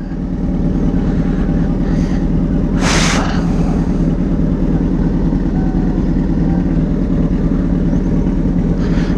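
A Yamaha XT600 motorcycle runs with a steady, loud engine drone throughout, with a short burst of louder noise near the three-second mark and no talking.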